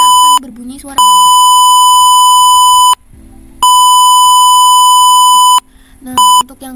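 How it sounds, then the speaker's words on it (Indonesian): An alarm buzzer on a cage monitoring device beeps in long, loud, steady electronic tones, two sustained blasts separated by a gap and then a short third beep, with talking in the pauses. "dia akan berbunyi suara buzzer"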